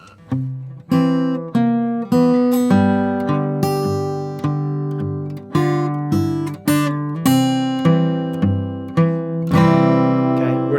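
Fingerpicked acoustic guitar notes ring out in a steady blues passage, each phrase starting with a fresh attack and sustaining, played alone at moderate volume.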